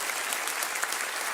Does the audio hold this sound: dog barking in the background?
no